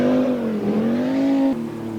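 Rally car engine at a Yugoslav championship event, loud and close, with a strong steady engine note that sweeps up and down through revs for about two seconds, then drops sharply as the driver lifts off.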